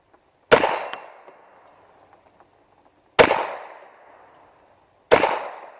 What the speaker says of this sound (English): Glock's always been a soft shooting gun